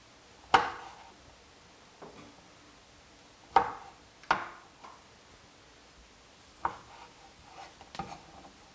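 A knife chops shiitake mushrooms sharply on a board, a handful of separate crisp cuts spaced irregularly with quiet gaps between them.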